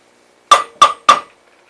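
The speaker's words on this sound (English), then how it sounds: "I found a sink with a bunch of dirty dishes in it." Dirty dishes clink in a sink: three sharp, ringing knocks at an even pace, close and loud, each fading quickly into near silence.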